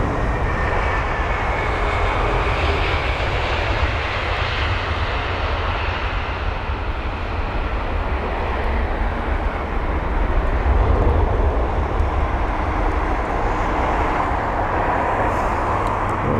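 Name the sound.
airliner landing at London Heathrow with nose flare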